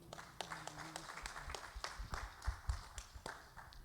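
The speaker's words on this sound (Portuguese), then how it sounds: "Vamos aplaudir ao Senhor?" Scattered applause from a church congregation during a Christmas celebration service, quiet and uneven with distinct individual claps and thumps, and a voice briefly at the start.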